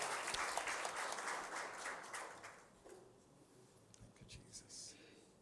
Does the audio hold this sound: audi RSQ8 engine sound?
no